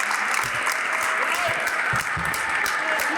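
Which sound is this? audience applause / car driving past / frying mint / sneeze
audience applause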